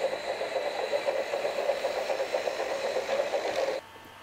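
Toby the tram engine from the animated show sets out light engine from the shed on a frosty day. It gives a steady, rhythmic chuffing rattle at mid pitch for nearly four seconds, then stops abruptly.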